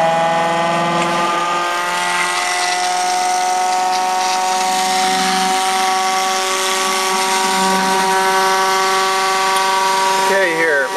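An electric motor drives a Muller generator replication rig, humming loudly with a steady layered whine as it runs at speed, its pitch shifting slightly near the end.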